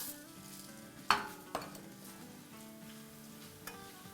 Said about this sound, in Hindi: इसको हम 30 सेकंड सौटे करेंगे।